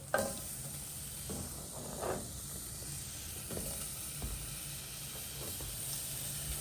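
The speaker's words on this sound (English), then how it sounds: "So now I'm going to add the zucchini." Zucchini tipped into a pot of sweet potato stew with softened onions, giving a steady, quiet sizzle and hiss with occasional soft stirring scrapes.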